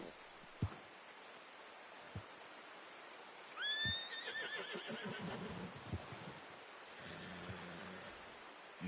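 A horse in the video game Red Dead Redemption II gives a single clear whinny midway, with soft rain and occasional hoof thuds in a quiet outdoor scene.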